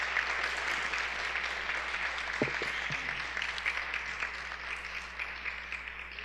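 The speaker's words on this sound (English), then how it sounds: "One more round of applause for the beautiful musicians that we have on stage today." Steady, dense applause from a concert audience for the musicians of a Carnatic philharmonic orchestra on stage, holding at an even level for several seconds with no speech over it.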